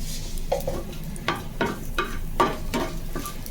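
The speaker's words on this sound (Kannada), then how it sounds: "ಗಾರ್ಲಿಕ್ ಒಳ್ಳೆ ಫ್ರೈ ಆಗಲಿ. 2 ಮೆಣಸು, ಒಣಮೆಣಸು, ಮಸ್ಟರ್ಡ್," Garlic, dried red chilies and mustard seeds fry in hot oil for a tadka, a steady close sizzle broken by several sharp stirring scrapes and spits in the pan.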